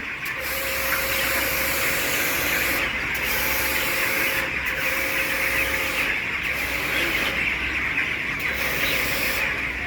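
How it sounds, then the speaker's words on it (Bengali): Steady, loud hiss of a car-wash style motor spraying cold water continuously at a broiler poultry farm, with a low mechanical hum underneath and no talking. "মোটর থেকে ডাইরেক্ট ঠান্ডা পানি নিয়ে এই পানিগুলো দিয়ে স্প্রে করে দেওয়া হচ্ছে"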